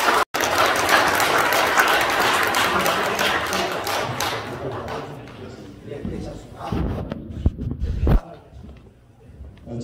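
A church congregation applauds warmly: dense, loud clapping that fills the first several seconds, then thins out and fades into scattered claps and knocks, with a voice speaking briefly near the end.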